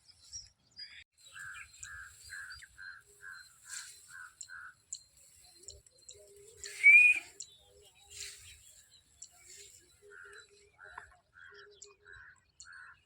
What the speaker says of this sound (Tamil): பாருங்கள், இது எல்லாமே சிட்டுக்குருவி தான்.